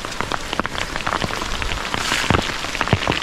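Heavy rain pouring steadily onto a surface, a dense continuous hiss with scattered sharper drops and splashes, loud and close with no voices.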